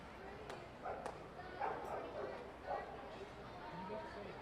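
A couple of dogs bark and yip at a ballpark in the Ozarks during an evening baseball game, quick short barks scattered under crowd chatter and voices.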